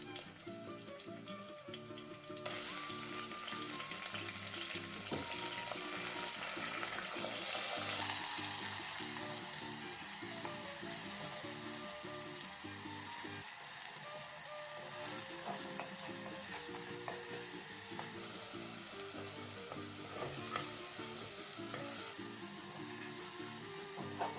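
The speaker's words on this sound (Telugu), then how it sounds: "మూడు మీడియం సైజ్ ఉల్లిపాయలు అండి ఆనియన్ పేస్ట్ ఈ ఆనియన్ పేస్ట్ కూడా వేసుకున్నాం" Onion paste made from three medium onions sizzles in a pan for a traditional fish curry. The hiss jumps up as the paste goes in, then holds a dense, steady fry alongside a soft background hum.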